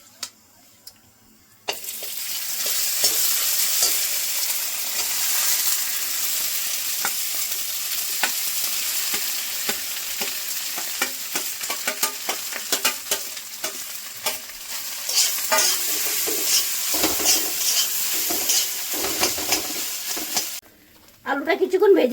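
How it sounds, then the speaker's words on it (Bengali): Potatoes fry in hot oil with asafoetida, a dense close sizzle that runs for about twenty seconds with frequent scraping and crackling as they are stirred. Quiet pauses come at the start and end. "আলুটা কিছুক্ষণ ভেজে নিয়েছি।"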